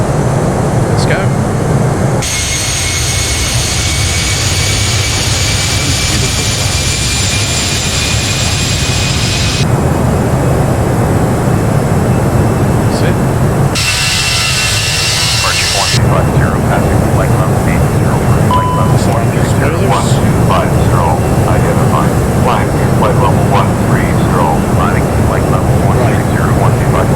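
Airbus A319 jet engines during a takeoff from São Paulo Guarulhos in the Prepar3D v5 flight simulator, a steady loud roar with a brighter high whine that shifts partway through, continuous for the whole stretch with no talk.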